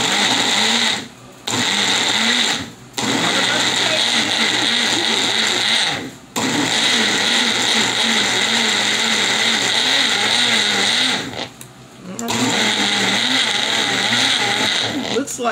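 A blender runs steadily while mixing homemade aloe vera gel, a loud continuous motor whir that cuts out in several short pauses, with a voice talking over it.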